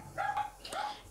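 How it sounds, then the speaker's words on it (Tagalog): A dog gives two quick, sharp barks close by, with a slight yelping edge, over a quiet indoor background. "Ingay yung aso namin."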